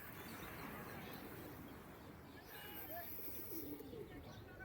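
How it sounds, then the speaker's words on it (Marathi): Soft cooing of pigeons by the sea in Mumbai heard faintly over a dense, steady background wash of outdoor noise, with a couple of low warbling calls. "कबूतर बघा कितीतरी कबूतर आहे तिथे"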